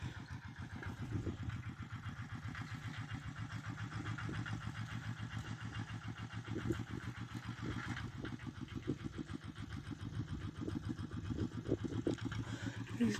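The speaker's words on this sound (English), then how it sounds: "He's driving the tractor over all our pipes." A tractor on a Namibian homestead farm, used for ploughing a flower field, drives over pipes; its engine chugs steadily with a rapid, pulsing low rumble throughout, close and continuous, with no talking.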